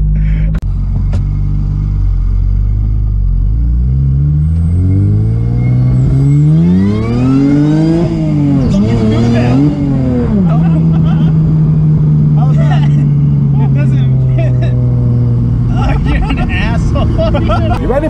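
A supercharged J32A2 V6 Toyota MR2 engine roars loudly close by, revving up and down in rising and falling sweeps before settling into a steady high drone, with faint voices underneath.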